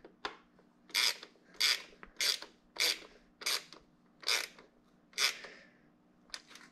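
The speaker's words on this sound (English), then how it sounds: "just to grab the middle of the ratchet like this" A hand ratchet tightening fuel injector bolts on a car engine, about ten crisp clicking rasps in a steady rhythm, close and fairly quiet, with no talk.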